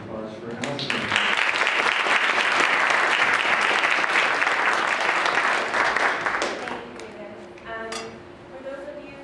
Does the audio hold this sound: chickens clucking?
no